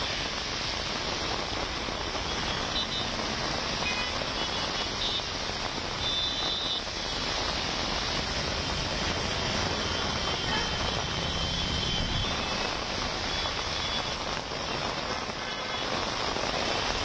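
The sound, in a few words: heavy rain falling in Bengaluru city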